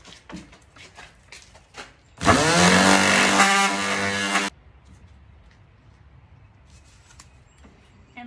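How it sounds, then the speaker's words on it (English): A power sander buzzes loudly against a wood tabletop being refinished, a single steady burst of about two seconds that cuts off abruptly between quieter handling noises. "This is not one of my favorite sanders, but it gets the job done."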